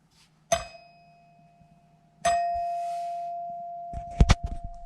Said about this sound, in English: there's going to be an actual literal chime, a literal bell up there, and you can flick it with your hand and you can hear it